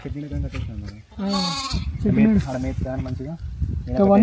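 A lamb that slipped and fell into a well bleats repeatedly in loud, wavering cries, mixed with nearby voices talking.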